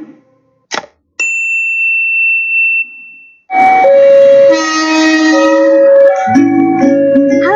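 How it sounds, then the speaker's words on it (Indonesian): A loud train goes by: a short sharp tone, then a sustained whistle, then a bright, layered horn blast that stays loud and shifts pitch as the cars roll past. "siapa di sini yang tidak tahu kereta api?"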